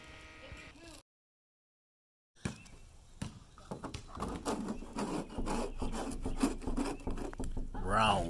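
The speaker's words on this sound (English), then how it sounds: "Round one. 120 sandpaper." A stripped bare-steel van hood is sanded by hand with 120-grit sandpaper, a close, rhythmic rasping scrape that starts after a short silence and builds into steady back-and-forth strokes.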